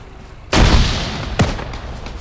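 Two loud gunshots ring out about a second apart, each with a booming echo that trails off, in a game setting.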